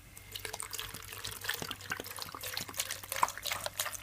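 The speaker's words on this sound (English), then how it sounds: "So now I'm gonna add some water." Water trickles and drips into a blender already holding beetroot, strawberries and ginger, a steady close splashing pour lasting a few seconds with no talking.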